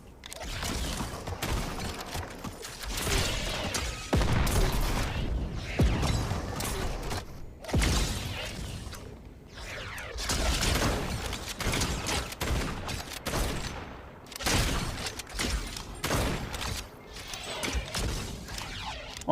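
Shotgun blasts and sticky grenade launcher fire in Fortnite, a dense run of loud thumping shots, crashes and clattering mechanisms that come in uneven bursts with short gaps between them.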